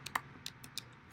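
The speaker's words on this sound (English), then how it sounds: "so I'll just type it out" A few light computer keyboard keystrokes, sparse and uneven, close and fairly quiet, with no one talking.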